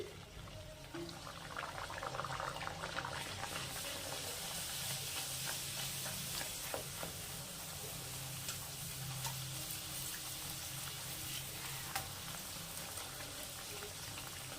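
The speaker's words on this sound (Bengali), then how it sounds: "এই দেখো আবার তোমাদের আরো দুটো ভেজে দেখাচ্ছি" Spinach kachori deep-frying in hot oil, a steady close sizzle and crackle that fills the whole stretch with no talking.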